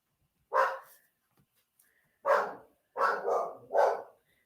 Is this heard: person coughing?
no